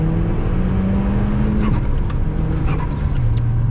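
A snowy-day pull in an MK6 Volkswagen Golf R with 100k miles, fresh from a carbon cleaning: a loud, close engine note climbing steadily in pitch, briefly dipping at a shift, then rising again.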